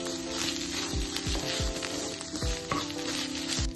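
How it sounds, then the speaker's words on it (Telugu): Beetroot fries in ghee until its moisture cooks off, giving a steady close sizzle with repeated spatula scrapes and stirs against the pan, no voices. "దీనిలో ఉన్న తడంతా పొయ్యే వరకు వేయించుకోవాలి"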